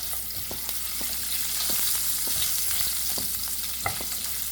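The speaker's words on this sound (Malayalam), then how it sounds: "ഒന്നിളക്കി കൊടുക്കാം" Chopped garlic and ginger frying in oil in a pan for Afghani egg curry, a steady close sizzle with repeated scraping and tapping of a spoon as it is stirred, no speech.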